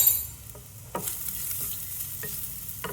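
Cumin and crushed black pepper sizzle in hot oil for a rasam curry, a quiet steady crackle with soft stirring clicks and scrapes.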